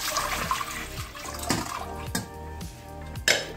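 Water poured into a cooking pot on the stove, a short splashing stream with several sharp knocks and clinks of the pot, fairly close and quiet.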